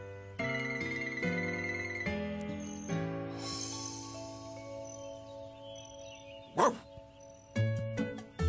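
Clifford the Big Red Dog, a cartoon dog, lets out a few short barks over a bright cartoon music score, with two distinct bursts near the end.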